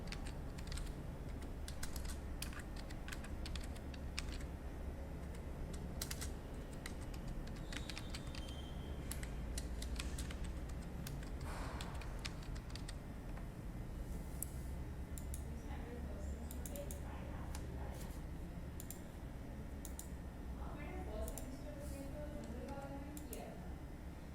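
Computer keyboard keys clack in bursts as product names are typed into a list, close and fairly crisp, with irregular pauses between words over a steady low hum.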